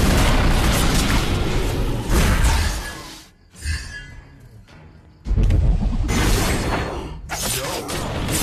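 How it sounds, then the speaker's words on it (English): Heavy booming blasts and crunching destruction as a turret is destroyed in an online battle video game, loud dense bursts with a brief quieter gap before another strong impact. "Our turret has been destroyed."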